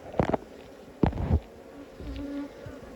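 Honeybees buzz around honey-filled hive frames during a hive inspection, several loud close passes rising and fading in short bursts, with a softer hum continuing between them.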